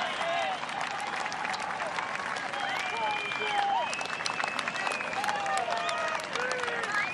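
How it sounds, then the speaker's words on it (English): Large golf gallery applauding and cheering as the leaders walk up the final hole in the final round of the 2022 KPMG Women's PGA Championship, a steady wash of clapping throughout with whistles and shouts on top. "As they come down the hill, large crowd giving an ovation"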